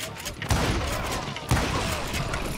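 Gunfire from the Western shooter Call of Juarez Gunslinger, two sharp bursts about a second apart, each trailing into a rolling clatter and rumble under a dense game mix.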